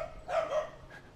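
A dog gives a single short bark at moderate distance outdoors during a walk, brief and fairly faint against quiet background noise.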